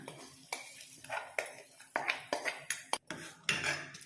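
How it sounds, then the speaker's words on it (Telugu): A spoon stirs dal with brinjal, fenugreek leaves and raw mango in a metal pot, repeated scraping knocks and clinks against the sides in an uneven rhythm, close and moderately loud. "అంతా బాగా కలిసేలా కలుపుకోవాలి."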